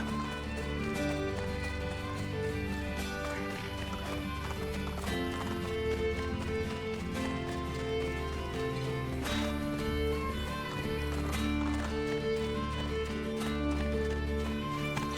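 Horse hooves clip-clop in a fast gallop over steady game music in Assassin's Creed Brotherhood, with a horse whinnying at times.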